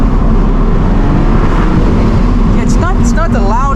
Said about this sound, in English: Only one more pull, just see if we get better exhaust now.